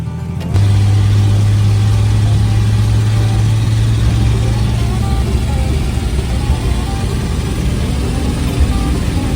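A 1962 Ford Falcon with a newly installed engine runs steadily on a test drive, a loud continuous engine drone with a strong low hum and faint road noise, no talking.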